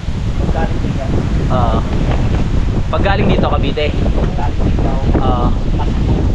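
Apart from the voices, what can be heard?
strong wind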